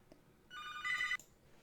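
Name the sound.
telephone ringing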